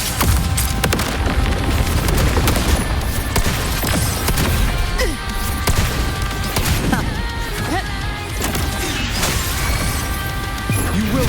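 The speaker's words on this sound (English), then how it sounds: "Another mortar thrown at us." Mortar shells burst in the video game Wuthering Waves on PlayStation 5, with repeated heavy booms and crashes through dense, loud battle noise and music.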